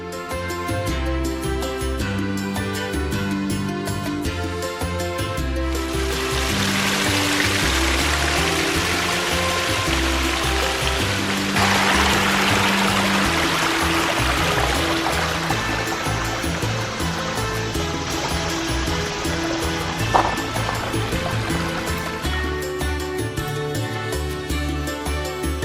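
Water cascades down a pondless backyard waterfall into a rocky stream along a boulder-lined slope in Connecticut, a steady close rushing that swells louder partway through and continues without talk.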